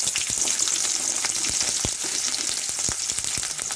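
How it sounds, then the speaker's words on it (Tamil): Mustard seeds and chana dal tempering in hot oil give a dense, bright crackling sizzle with scattered sharp pops and a few soft utensil taps, close and continuous. "இப்போ நான் கடுகு, கடலைப்பருப்பு போட்டு தாளிச்சிக்கலாம்"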